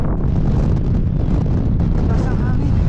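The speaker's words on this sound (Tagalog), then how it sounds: "Taas ang hangin." Strong wind buffeting a microphone on a New Zealand mountain top, a loud continuous low roar and rumble with gusty fluctuations, partly covering faint voices.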